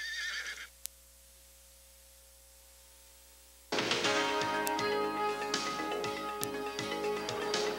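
A horse neighs in a brief, loud whinny at the start, then falls quiet before music swells, part of a Suffolk Downs racetrack ad.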